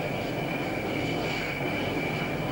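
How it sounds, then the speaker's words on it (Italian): An F-4J Phantom jet is launched from an aircraft carrier catapult: a continuous, loud roar of jet engine and rushing air that holds steady throughout the short clip. "Un F-4J Phantom è lanciato come se fosse un giocattolo."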